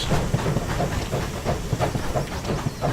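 Close loud train passing on tracks in a farming game, hissing rush over a regular clacking of wheels on rail joints, heard alone.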